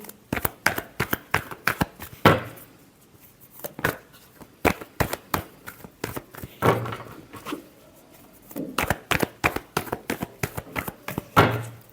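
Tarot cards are shuffled in repeated bursts, a crisp riffling and flicking of card edges in quick runs separated by short pauses, close and clear, heard alone with no speech.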